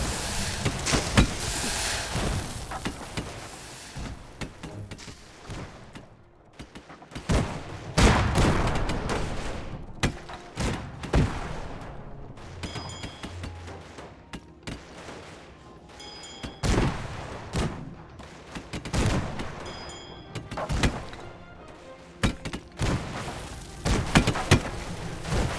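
Airship cannons fire in the strategy game Airships: Conquer the Skies, a dense barrage of sharp booms and crashing impacts repeating irregularly and loudly throughout.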